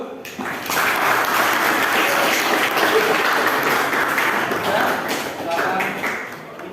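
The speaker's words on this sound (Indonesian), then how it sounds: "Tepuk tangan dulu" Classroom applause from students after a group presentation, a dense sustained clatter of clapping hands that swells in and runs steadily for several seconds before tapering off.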